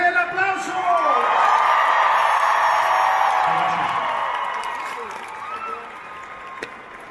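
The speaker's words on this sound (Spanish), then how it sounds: "¡Más fuerte el aplauso!" A concert crowd at an MGM Las Vegas show claps and whoops loudly, a dense roar of applause and cheers that gradually fades, with voices mixed in.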